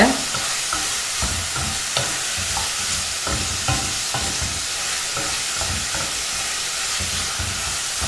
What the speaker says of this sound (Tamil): இப்போ தக்காளியும் நல்லா வதங்கிடும் உப்பு போட்டிருக்கிறதால